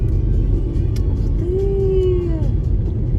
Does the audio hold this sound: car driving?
yes